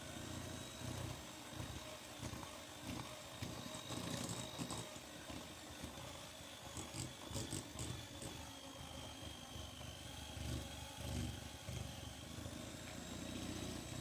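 An electric mixer beats choux pastry dough while eggs are added one at a time, producing a steady, faint motor whine with a churning texture that continues throughout.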